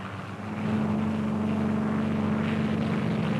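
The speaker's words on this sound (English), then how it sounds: "scores of other aircraft are taking their prearranged positions in the sky above the anchored ships" Navy fighter aircraft fly over anchored ships during the 1946 Project Crossroads nuclear test, a steady, droning engine hum that swells after a moment and then holds continuous and fairly close, with no voices.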